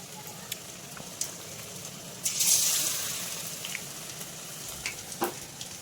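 Chicken pakora frying in hot oil, a steady soft sizzle with sharp pops and spatters scattered throughout and a brief louder hiss burst midway.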